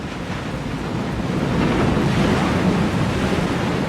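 Ocean surf rolls onto a beach where loggerhead turtle hatchlings head for the water, a broad steady wash of breaking waves that swells louder midway and holds, with wind buffeting the microphone.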